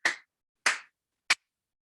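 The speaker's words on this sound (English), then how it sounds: "Oh, another clap." Three separate hand claps during a yoga session, close and crisp, the first two fuller and the last short and sharp, with silence between.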